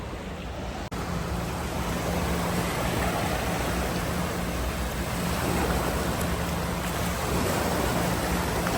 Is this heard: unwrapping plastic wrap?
no